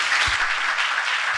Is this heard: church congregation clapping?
yes